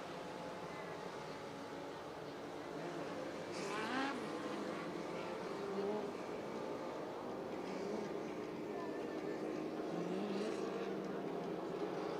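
Dwarf cars racing on the dirt oval at Coos Bay Speedway during a 25-lap main event, engines droning at a distance with a few rising passes over steady crowd and track noise.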